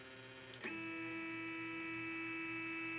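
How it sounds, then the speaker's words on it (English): An Othermill desktop milling machine homing and calibrating itself: after a faint click, a quiet, steady electrical whine starts and holds over low hum. "When you first plug in your mill, you'll be prompted to home the machine so it can calibrate itself."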